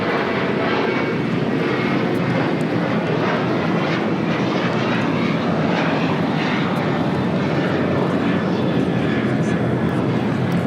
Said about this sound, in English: This is United Airlines 2172 taking off to Tampa, Florida on a 737-800.